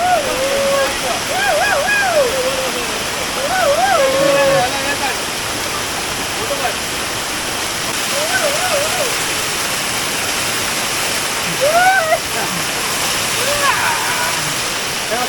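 A waterfall at Navale village in Sindhudurg roars steadily and loudly throughout, with people's voices rising briefly over the constant rush of water.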